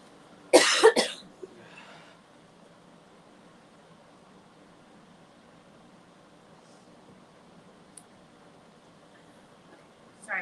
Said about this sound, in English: Excuse me for just a second, I got a cough.